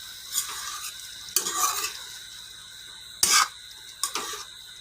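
Pumpkin and potato pieces stirred in a frying pan, several distinct scraping strokes of a spatula at irregular intervals over a faint steady sizzle, close and quiet between strokes.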